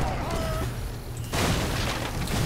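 Fixed cannon emplacement firing in the strategy game Age of Empires 3, a booming burst that sets in partway through over a continuous battle din with overlapping blasts and crackle.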